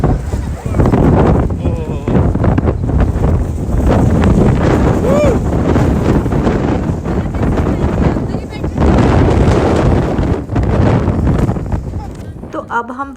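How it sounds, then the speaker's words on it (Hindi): Strong wind gusting outdoors in Madina, roaring steadily into the microphone for the whole stretch with loud buffeting and brief dips near the end. "इतनी तेज हवा चल रही है"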